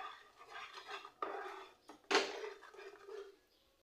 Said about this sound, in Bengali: খাবার সোডাটা দেওয়ার সঙ্গে সঙ্গে খুব ভালো করে নাড়াচাড়া করে দিতে হবে